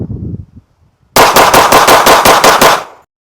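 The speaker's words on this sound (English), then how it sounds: "watch what happens over time as I shoot here when I barely grip onto the" A pistol fired rapidly with a loose support-hand grip, about nine sharp, loud, evenly spaced shots in a quick string after a brief pause that follows some low talk.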